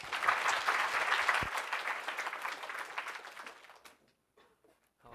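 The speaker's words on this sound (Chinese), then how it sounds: "我们鼓掌欢迎" Audience applause fills a conference talk hall at an open-source software event, a dense, steady clapping that holds strong for several seconds before thinning out and stopping, with only brief scattered sounds after it fades.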